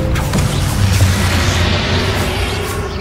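In the video game Hogwarts Legacy, the Expelliarmus spell is cast in a final battle and lands as a loud, rumbling magical blast that rolls on for a few seconds.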